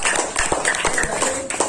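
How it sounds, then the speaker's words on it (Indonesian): Students in a classroom give a short round of applause, quick, fairly close clapping lasting under two seconds. "Iya, tepuk tangan dulu."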